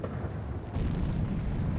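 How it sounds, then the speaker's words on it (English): Explosions at the outbreak of the First World War, heard as a dense, rumbling roar with a sharper surge partway through, steady and heavy throughout the short stretch. "Then there was another explosion,"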